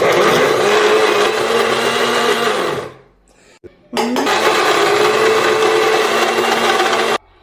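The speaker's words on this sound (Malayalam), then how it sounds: "ഇതിലേക്ക് സൺഫ്ലവർ ഓയിലൂടെ ഒരു സ്പൂണ് ചേർത്ത് കൊടുക്കാം ഇത് നന്നായിട്ട് ബ്ലെൻഡ് ചെയ്യണം പല പ്രാവശ്യം" A kitchen blender whirs loudly, blending peanut butter with sunflower oil: one roughly three-second burst, a brief pause with faint handling, then a second, longer steady run before it cuts off.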